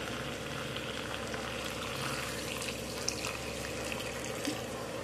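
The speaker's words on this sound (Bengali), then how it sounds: "এটাতে আমি দিয়ে দেব গরম জল।" Hot water poured into cooking chicken in a pan, a continuous close hiss and bubbling sizzle lasting throughout, with no talk.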